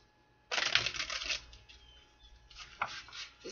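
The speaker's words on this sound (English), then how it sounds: "One more shuffle here, one more shuffle." An oracle card deck is shuffled close up in two quick riffling bursts, a crisp papery flutter followed by a softer second shuffle after a short pause.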